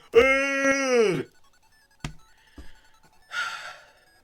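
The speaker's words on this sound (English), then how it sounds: "I'm yawning again." A person yawns once with a long, loud, voiced rising-then-falling exhale, followed by a soft click, a small thump and a brief breathy sigh.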